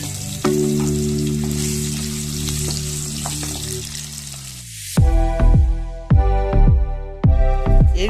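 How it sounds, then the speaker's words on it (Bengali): Potatoes fry in hot oil in a vegetarian home kitchen, a steady sizzle at first, then four loud bursts of crackling spatter as pieces hit the oil, close and with no talk. "এই তেলেতেই আমি আলুটাকে ভালো করে ভেজে নেব।"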